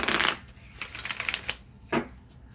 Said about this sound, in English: Let's shuffle these out. So yeah, just shuffle them like so.